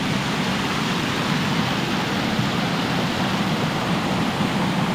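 Water rushes in a steady, broadband roar like a waterfall or fast stream on a vacation outing, constant and fairly loud with no voices.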